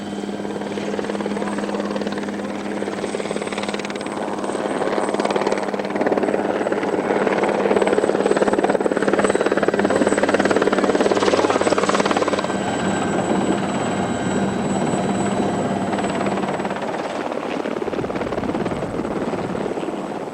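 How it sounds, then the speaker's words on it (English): A helicopter drones loudly and steadily throughout, its rotor roar swelling for a few seconds in the middle before easing back. "the noise of the chopper doesn't bother him"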